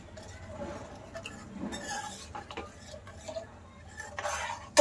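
A spoon stirs fried masala mixed with tomato sauce in a pan for paneer lababdar, giving scraping, clinking metal-on-pan sounds in uneven strokes, fairly close and moderately loud, with a sharp clink at the end.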